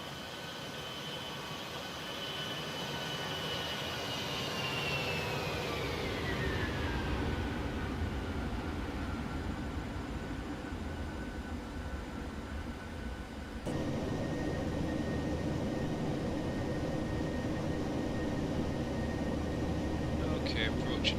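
A simulated Ryanair Boeing 737-800 jet flies past in a flight simulator, a steady engine roar with a whine that slides down in pitch as it passes, then holds a constant drone.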